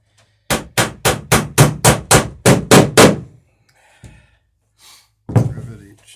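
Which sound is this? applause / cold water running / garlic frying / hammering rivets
hammering rivets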